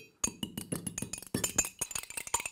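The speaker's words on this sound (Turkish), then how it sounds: "İkisini süt ve yumurtayı karıştırıyorum." Milk and egg whisked together in a glass for a microwave cake: a quick, steady run of close, bright clinks as the utensil knocks the glass rim, continuous rapid taps with brief gaps, no talking.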